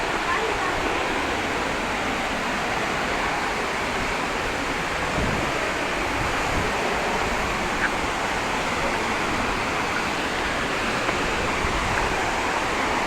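Water rushing and spraying at Marmala waterfall, a steady, dense roar of falling water filling the whole stretch without letup, close and loud.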